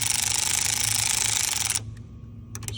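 A power ratchet tightening EGR valve bolts on a 2007–2022 Mercedes Sprinter V6 diesel (OM642) gives a loud, rapid buzzing rattle for nearly two seconds, then stops, followed by quiet clinks and another short burst.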